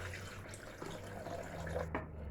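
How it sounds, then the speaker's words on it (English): Water poured into a blender for a peanut, pumpkin and sunflower seed punch, a steady close trickling and splashing pour at low level with no voices. "so I'm gonna add a little water"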